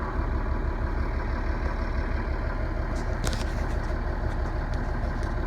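A Scania TGB30 SBA111 truck with a D11 diesel engine idles after a cold start, a loud, rough low rumble with steady rapid knocking and a few brief metallic clicks partway through.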